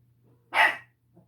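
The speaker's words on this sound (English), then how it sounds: "There's a cat outside, and he barks at everything." A single sharp dog bark, close and fairly loud, in an otherwise quiet indoor room with a low steady hum beneath it.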